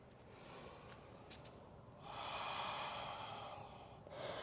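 Slow, deep yoga breathing close to the mic, a quiet airy inhale followed by a longer, fuller exhale through the nose, soft and alone.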